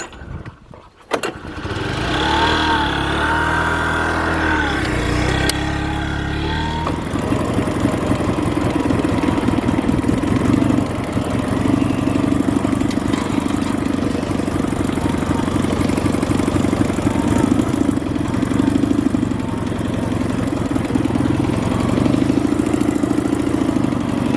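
Dnipro-11 motorcycle starting and riding off, a loud close engine that catches after a brief clunk, then a steady throbbing mid-pitched drone, with a short voice near the start.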